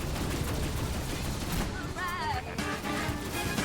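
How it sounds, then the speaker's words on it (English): Video game firefight with continuous gunfire, a thick layer of overlapping shots and rattling bursts filling the whole stretch at fairly close range. "I'm in the middle of a pitched firefight at the moment"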